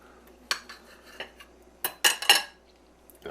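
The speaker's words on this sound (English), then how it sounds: "So I'll get all that sliced up." A knife slices sausage and peppers on a cutting board, several sharp separate cuts and taps, a few quick ones clustered near the end, close and fairly crisp with no voices.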